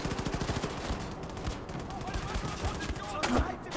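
Rapid automatic gunfire in the Wolfenstein 2 video game, a fast steady stream of close sharp shots running the whole length with barely a pause, loud and dense.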